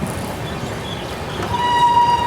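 The Mumbai Hyderabad SF Express, a 16-coach train, rumbles along steadily with a broad running noise that grows slightly louder, and a thin steady tone joins near the end.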